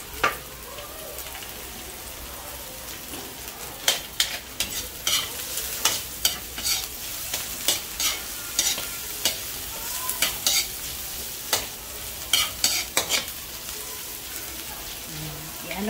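Ginger, garlic and onion sautéing in a pan while being stirred, a close steady sizzle broken by many sharp spatula taps and scrapes against the pan, with faint background voice.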